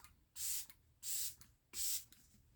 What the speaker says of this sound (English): let's do a little bit more of the LYS setting spray to see if that helps